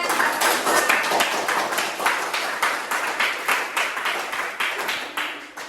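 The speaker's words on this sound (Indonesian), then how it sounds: "Iya, beri tepuk tangan." Classroom students clap together in a steady, dense burst of applause lasting several seconds, fairly loud and close, with no talk over it.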